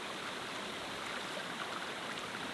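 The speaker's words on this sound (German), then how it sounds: "Hier neben dran plätschert" A small mountain stream babbles beside a tent site on a Norwegian trek near Rondslottet, giving a steady, close, even rush of water with no voices.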